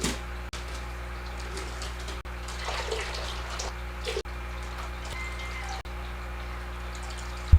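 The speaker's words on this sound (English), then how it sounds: "now I'm just going to add some aquarium water into each of their bags" Aquarium water pours steadily into plastic bags holding newly bought fish, a continuous splashing trickle with occasional soft clicks and knocks over a low background hum. Nobody talks.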